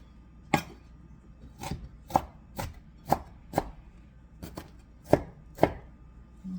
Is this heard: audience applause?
no